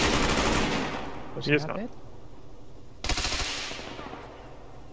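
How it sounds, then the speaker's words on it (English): Bursts of vehicle-mounted machine gun fire in a combat video game, a loud volley at the start and another sustained burst around the middle, with a voice talking in between. "Vehicle machine gun, south southeast"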